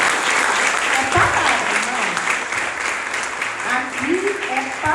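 Congregation clapping steadily through a church service, dense and sustained applause with a voice speaking over it.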